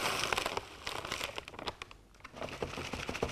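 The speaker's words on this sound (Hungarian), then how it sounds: "egy műanyag tálkába beleöntve" Dry corn bait granules for carp fishing poured from a plastic bag into a plastic bowl, giving a steady run of crinkly rattling and pattering, close and fairly quiet, with no voices.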